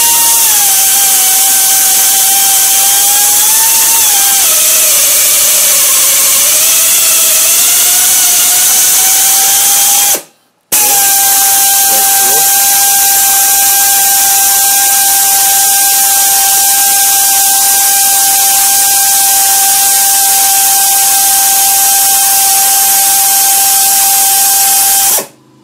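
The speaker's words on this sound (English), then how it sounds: "So now I went to the 90" A pneumatic tapper drives a 1/2 inch by 13 thread through slightly hardened, flame-cut 1-inch steel plate at 90 RPM, giving a loud, sustained high whine with steady tones that shift in pitch, broken once by a brief stop.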